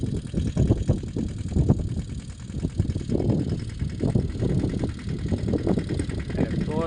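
A tractor engine runs steadily in a groundnut field, a rough low rumble that stays constant throughout, with people talking over it.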